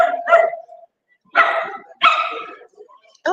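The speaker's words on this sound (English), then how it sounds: "there's a dog barking right now" A dog barks in sharp, loud, close bursts: a quick double bark, a pause, then two more barks in a row, and the start of another at the very end.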